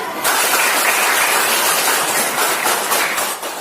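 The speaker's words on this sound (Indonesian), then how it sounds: "Beri tepuk tangan." Steady applause from a group of schoolchildren in a classroom, dense and fairly loud, continuing for a few seconds without pause.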